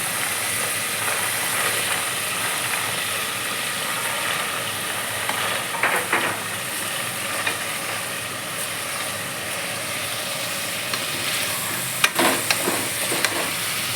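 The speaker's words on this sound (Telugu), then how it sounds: "ఇది కూడా ఏంటంటే లైట్గా ఫ్రై చేసుకోవాలి బొబ్బర్లు" Cowpeas and green chilies fry in masala in a pan, a steady loud sizzle running throughout with occasional scraping stir strokes and clinks; no talking.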